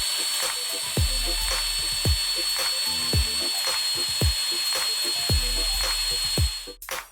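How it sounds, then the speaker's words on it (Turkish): A brand-new construction mixer churns a giant batch of eggs for an oversized Pringles recipe, giving a steady mechanical whir with loud rhythmic knocks about once per second, close and alone. "İyice karıştırmak için yepyeni bir inşaat karıştırıcısı kullanacağız."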